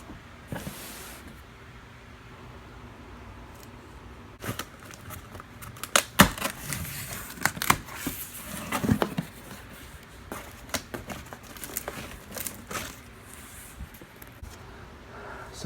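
Cardboard packaging of a Hoover Hushtone 15 vacuum box being opened, with irregular crinkling, tearing and rustling that grows busier in the middle, close and fairly quiet.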